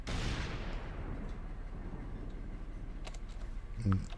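Artillery fire in the video game Operation Flashpoint: Dragon Rising, a heavy booming blast that decays into a long rumbling roll, followed by a brief burst of sharper cracks near the end.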